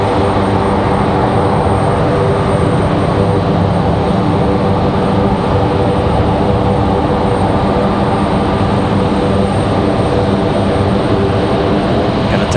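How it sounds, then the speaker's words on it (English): FedEx plane touching down at Raleigh-Durham airport, loud continuous engine roar with steady droning tones, close and unbroken from start to finish. "FedEx is going to touch down here in a second."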